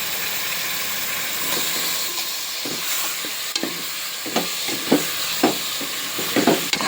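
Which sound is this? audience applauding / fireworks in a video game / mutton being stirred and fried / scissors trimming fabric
mutton being stirred and fried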